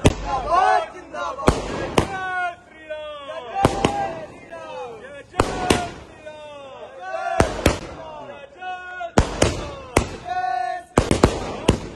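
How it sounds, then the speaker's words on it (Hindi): Repeated fireworks and firecrackers bang and crackle in sharp bursts, with whistling trails between blasts and distant crowd noise underneath. "आतिशबाजी छोड़ी जा रही है, पटाखे छोड़े जा रहे हैं"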